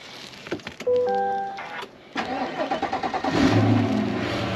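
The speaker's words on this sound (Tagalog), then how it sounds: "Start ka na lang muna yung sasakyan natin." A car engine cranks with a starter whine, catches and settles into a steady idle to warm up, close by and fairly loud, after a few knocks and clicks.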